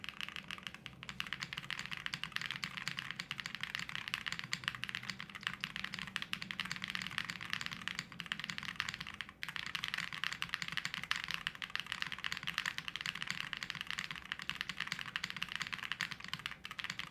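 Typing on a Tiger Lite mechanical keyboard with stock Cherry stabilizers and stock switches: a steady, continuous run of close, crisp keystrokes with no pauses, occasional heavier thocks standing out among them, and no voices.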